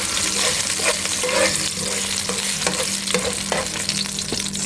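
Seasoned beef stirred through burnt sugar in a pot, a loud, steady sizzle broken by repeated scraping strokes and clinks of the spoon against the pot, with no voices.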